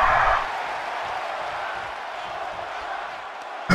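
A large live-event crowd roars in a steady, dense wash of cheering and chanting, sustained loudly throughout.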